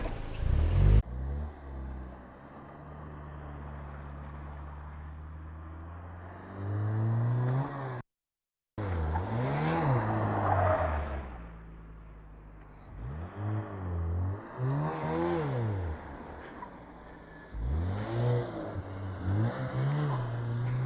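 A Foxbody Mustang fitted with SR Performance coilovers accelerates in second gear while circling, its engine droning steadily and then revving in repeated rising and falling surges, loud and close.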